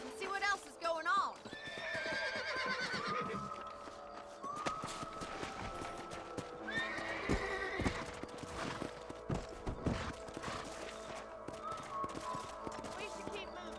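Horses whinny and neigh repeatedly in Red Dead Redemption, with hooves clip-clopping underneath and occasional sharp gunfire bursts in an outdoor Western scene; someone speaks briefly.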